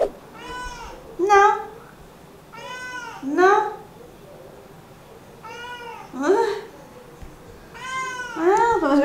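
A cat meows repeatedly, about a dozen drawn-out, wavering cries in pairs, close by, with a person speaking briefly between them.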